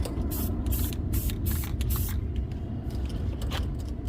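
A spray paint can hisses in several short bursts, close by, with brief pauses between sprays, coating a rusty metal plant stand.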